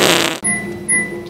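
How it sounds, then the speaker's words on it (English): A Roblox game fart sound effect, a loud buzzy blast lasting under half a second, followed by quieter game tones. "I think someone farted."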